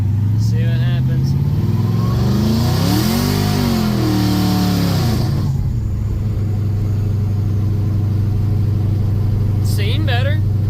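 A supercharged LS-swapped C10 truck roars through acceleration, its engine note climbing, briefly dipping at a gear shift and rising again before settling into a loud, steady idle-like rumble; voices talk briefly near the start and end.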